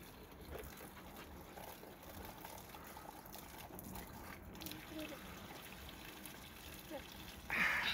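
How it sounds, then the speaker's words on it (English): Water trickling steadily from a pipe on a rural property, faint and continuous, with a brief louder rush near the end. "Water's so good you can drink it straight from the pipe"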